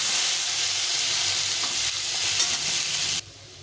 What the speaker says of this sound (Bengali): এই মাছের তেলে আলুটা একটু ভেজে নেব।